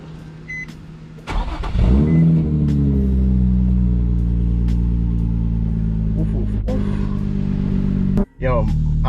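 Car fitted with a newly installed Tomei exhaust, its engine droning loud and close in a steady rev that holds for several seconds, then cuts out abruptly near the end, with voices talking over the exhaust note.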